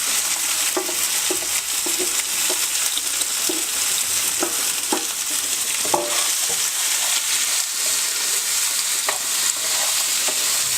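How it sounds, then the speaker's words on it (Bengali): Chickpeas fry in hot oil for chola with a constant loud sizzle and occasional spoon scrapes as they are stirred, close up, with no talking. "তো আমি ছোলাটা দিয়ে দিচ্ছি খুব সাবধানতার সাথে।"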